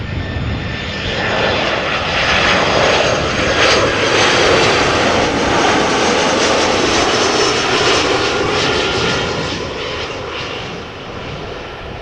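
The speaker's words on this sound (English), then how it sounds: "A319 arriving from London Luton." An EasyJet Airbus A319 jet arriving at Amsterdam Schiphol from London Luton, a loud, close engine roar that swells, holds, and then begins to fade as the plane passes, with no talking.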